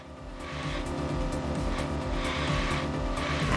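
A car races around the track in the arcade video game Classic Sports Driving, a steady loud engine drone with tire squeal and skidding throughout, close and continuous.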